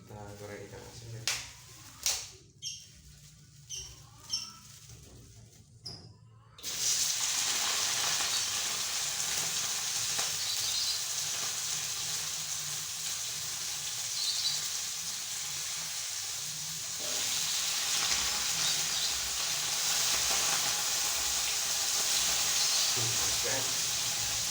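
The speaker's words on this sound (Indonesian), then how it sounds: "kita goreng ikan asin guys" Salted fish frying in a pan, giving a loud, steady sizzle and hiss that runs without a break for most of the stretch after a few short knocks and bursts at the start.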